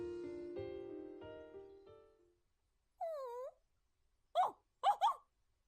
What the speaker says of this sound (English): Wait, so why is Kotarou barking?